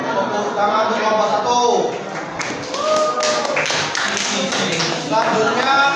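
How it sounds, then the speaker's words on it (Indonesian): Junior high students in a classroom clapping for a group of classmates, a dense patter of hands mixed with voices and rising in the middle of the stretch. "Tepuk tangan untuk kelompok"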